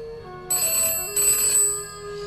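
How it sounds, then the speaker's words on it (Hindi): A home telephone rings in two bright electronic bursts, a short pause between them, fairly close with a faint hum underneath. "ये फिर से घंटी बजी।"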